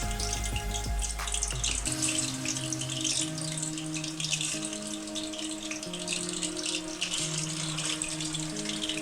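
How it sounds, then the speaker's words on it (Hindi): Chicken pieces deep fry in hot oil, giving a continuous crackling, bubbling sizzle with steady bright hiss, near and loud, with a faint hum beneath. "इसको डीप फ्राई हम करेंगे"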